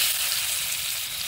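Chopped onions frying in a pan for a riverside fish meal, a dense, even sizzle that stays loud and close without a break over a short stretch.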